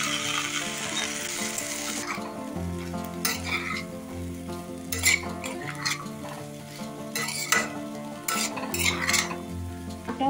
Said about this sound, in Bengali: আবারও আলুটাকে আমি ভালো করে নেড়ে দিচ্ছি